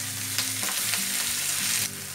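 Tomato sizzles and spits as it fries with mustard seeds in a pan for a Karnataka-style bitter gourd curry, a bright continuous crackle broken by a few spoon stirs, close and steady.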